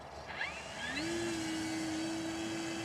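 An E-flite Super Timber RC plane with half flaps makes a stall takeoff, its electric motor whine rising sharply in pitch and then holding a steady, bright tone, moderately near and with no talk.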